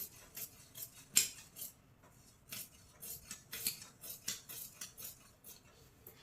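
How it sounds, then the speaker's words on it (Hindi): Scissors cutting cloth for palazzo pants, a series of crisp metallic snips and clicks in uneven rhythm, close and fairly loud with quiet gaps between cuts, no talking. "तो यहां से हम कपड़े को कट करेंगे।"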